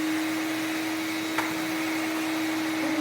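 A compact HEPA-certified wet/dry vacuum runs loud and close with a steady whining drone as it sucks up sand, with one brief rattle of grit partway through and no talking.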